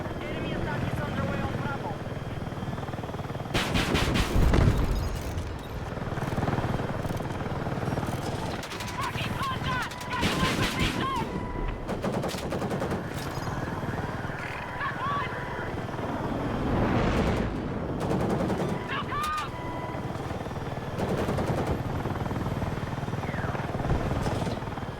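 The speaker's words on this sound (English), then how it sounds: "Yes, I'm using heavy rockets." Helicopter in a video game firing heavy rockets, a constant rotor drone under frequent explosive bursts and impacts, with people talking over the action throughout.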